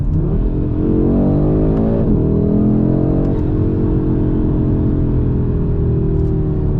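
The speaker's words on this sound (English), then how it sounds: "Let's see if we can catch the revs." A 2022 Audi RS3 on the road, its engine revving loud and close as it climbs through the gears, pitch rising, dipping at a shift, then climbing again over a steady rumble.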